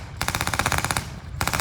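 A Warrior armoured vehicle fires its 30mm cannon and coaxial chain gun at Tankfest 2019, with loud, rapid, sharp bursts of gunfire, a sustained burst followed by a short pause and then another burst.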